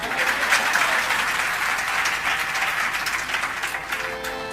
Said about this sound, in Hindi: एक बार इनके लिए ताली बजाइए।